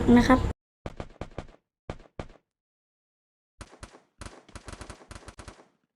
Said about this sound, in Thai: เฮ้ยดูเหมือนเพื่อนจะยิงกันแล้ว